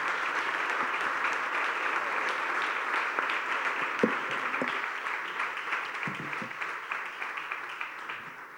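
Audience applause at a business forum, dense steady clapping from a sizable seated crowd in a hall, held evenly for several seconds before slowly thinning.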